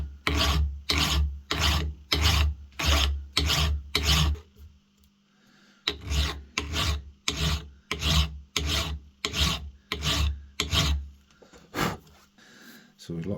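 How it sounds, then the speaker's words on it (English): A coarse file is worked across the body of an antique Manstopper pistol in two runs of rhythmic, loud rasping strokes, about seven, then a short pause, then about eight more, each stroke close and even in pace. "I'm going to start off with a fairly coarse file just to get it somewhere near."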